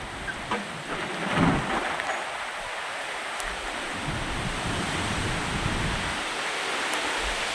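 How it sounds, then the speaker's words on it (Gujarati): Heavy rain during a storm in Gujarat, a loud continuous wash with wind, and a low rumble of thunder swelling near the start before the downpour carries on steadily. "વરસાદ ધીમો પડ્યો છે એવું લાગે છે"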